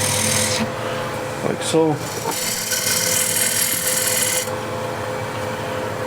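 Shear scraper cutting a piece of wood on a lathe, throwing off fine shavings, with a steady scraping rasp and brief vocal interjections and speech in between.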